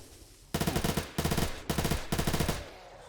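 Automatic gunfire from a gun in the modded zombie survival game 7 Days To Die: four loud, rapid bursts of closely spaced shots with brief gaps between them, heard alone without talk.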